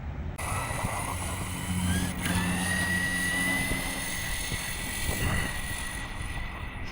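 Whining electric motor of an RC short course truck rated at 70 mph, rising and falling in pitch as it runs outdoors, with wind buffeting the microphone.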